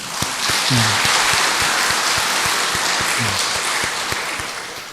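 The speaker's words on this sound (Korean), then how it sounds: "우리 박수 한번 해드릴까요?" Church congregation applauding the choir, a steady, full round of clapping that fills the space from start to finish, with a couple of brief low vocal sounds underneath.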